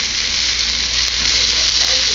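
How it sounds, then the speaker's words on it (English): Onions with yellow, red and green peppers sauté in a pan, giving a steady, close, bright sizzle with no pauses. "I'm sauteing up some onions and peppers."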